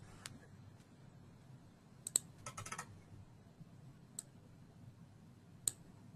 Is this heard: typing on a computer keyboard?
yes